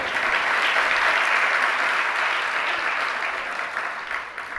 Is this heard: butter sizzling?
no